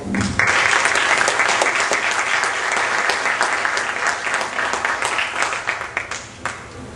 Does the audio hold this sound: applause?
yes